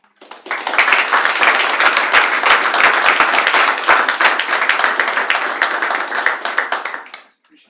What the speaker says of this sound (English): So maybe a round of applause for our maintenance.